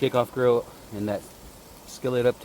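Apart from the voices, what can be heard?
No everyday noise stands out behind the speech.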